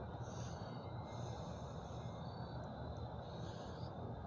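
A freight train rumbles past at night on a railroad line, a steady low roar with faint high wheel squeals, heard from a distance and without voices.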